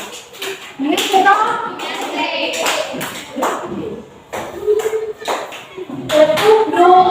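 A group playing a counting clapping game during a counseling session claps in short bursts of varying length, crisp hand claps alternating with a leader's spoken and chanted prompts.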